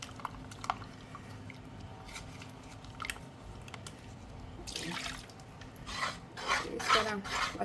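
Cup scraped to get homemade sculpture texture paste out while mixing, soft close rasping strokes that grow busier and louder toward the end, no talking.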